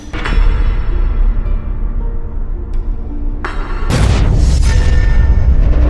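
A car explodes in a film scene, a heavy booming blast bursting in abruptly after a few seconds of loud, steady rumble and then roaring on at full volume.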